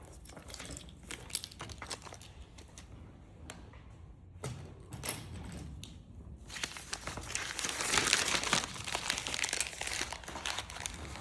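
Paper sewing pattern pieces are handled near a muslin cutting setup, giving close crinkles and rustles that build to a louder, denser stretch of crumpling and sliding paper toward the end.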